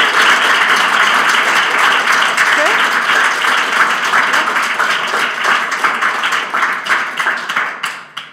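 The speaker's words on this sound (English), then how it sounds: "Big round of applause." Sustained audience applause at a tech talk event, dense steady clapping throughout that thins and fades near the end, with some voices mixed in.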